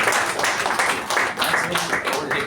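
A crowd at a Toastmasters club meeting applauds, giving a dense, sustained wash of clapping that stays steady throughout with small swells.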